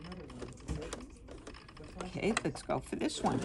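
A sewing machine running a twin-needle scallop stitch in rapid rhythmic bursts, close and clear, following a brief spoken comment.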